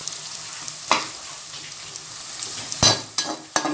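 Onions fry in a pan over low heat, hissing softly and steadily while a utensil scrapes and stirs now and then, louder near the end.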